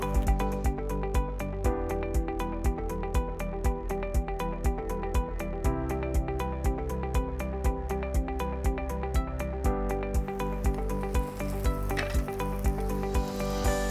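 Chicken cheese kebabs fry in a pan, giving a continuous sizzle under a steady, rhythmic musical backing that pulses throughout.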